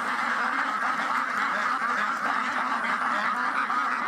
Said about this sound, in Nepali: फर्ममा हाँस पालन गरिएको छ